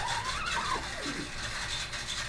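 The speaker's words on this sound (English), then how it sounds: "Oh, sorry, that was actually a printing stroke." A screen printing squeegee makes a single scraping, rubbery printing stroke across the screen, a close, steady swish lasting about two seconds.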